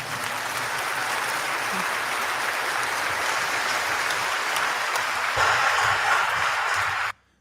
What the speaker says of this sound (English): I don't like the applause for the apology.